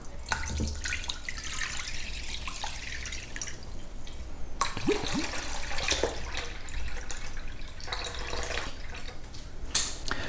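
Cold milk pours and splashes into a pot in a few bursts, with soft gurgling between pours.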